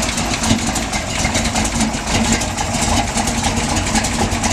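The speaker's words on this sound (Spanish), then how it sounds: "Chequen cómo suena porque está alterado." A modified 1987 Ford Bronco with a 351 V8 and Edelbrock intake idles loudly up close, its lumpy, uneven rumble pulsing steadily with no talking.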